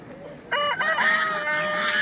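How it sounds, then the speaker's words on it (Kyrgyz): A rooster crows loudly and close by at a poultry market in Sokuluk, a long drawn-out call that begins abruptly after a quiet start and holds steady to the end, with a busy market murmur behind it. "Короз буларда."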